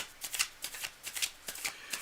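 Tarot cards being shuffled close by in quick, rhythmic riffling bursts, about four crisp papery flurries over two seconds, with no talking.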